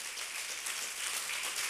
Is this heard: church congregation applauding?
yes